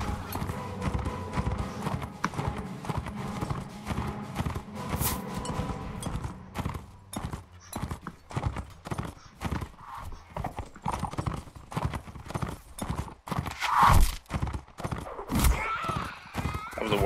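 Rapid, heavy hoofbeats of a galloping horse in the video game Mount & Blade Warband (Warsword Conquest) pound continuously amid a busy, noisy battle din, with a sharp whinny near the end.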